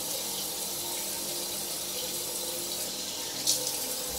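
A bathroom tap runs steadily as water is used to wet the face before washing, a soft, even splashing hiss that continues throughout, with a faint brief splash near the end.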